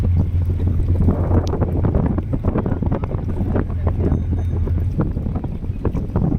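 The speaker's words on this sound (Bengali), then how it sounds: "সামনে চলে যাচ্ছে লঞ্চ বাউরিয়া ফেরিঘাটের উদ্দেশ্যে" A ferry launch crossing the Hooghly river between Bauria and Budge Budge ghats, heard as a loud, steady low engine rumble with heavy wind buffeting the microphone throughout.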